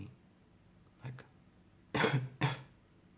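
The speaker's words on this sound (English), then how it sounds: "all you have to do is cough for me" A light throat noise is followed by two sharp, forceful coughs in quick succession, close by in a quiet room.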